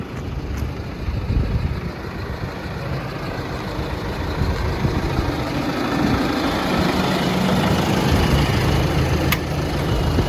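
A steady, low tractor engine rumble idles continuously, growing slightly louder partway through, with no speech.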